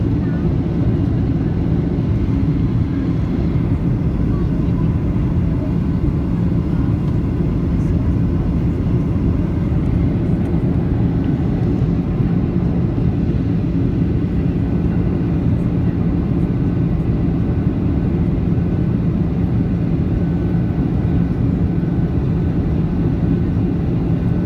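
A steady, loud, unbroken roar fills the cabin of a Ryanair Boeing 737-8AS with winglets on approach to London Stansted, with no distinct mechanical thump standing out above it.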